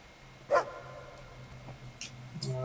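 Dog barking in the video game Fable II: one sharp bark near the start, then fainter yips and whimpers over a low steady hum, with no talk.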